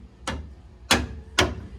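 Metal pry bar and hammer work on a BMW E36 suspension freeing a ball joint, three sharp metallic knocks about half a second apart, close and clear over faint background.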